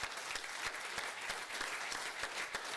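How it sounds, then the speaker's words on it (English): Applause at a city council meeting for a fire crew, a thick run of many hands clapping together, with a few sharper claps standing out against the steady wash. It is fairly quiet and sounds far off. "Give them a round of applause."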